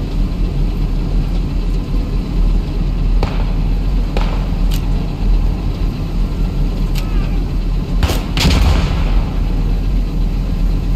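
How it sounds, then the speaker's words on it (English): Artillery fire mission in a military video game, with several distant booms and sharp impacts rising over a constant low engine rumble and background noise, the last few blasts coming close together and louder. "after that fire mission, I got another one for you, Eisenberg."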